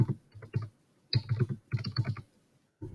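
Someone types on a computer keyboard in short bursts of close, crisp key clicks separated by brief pauses.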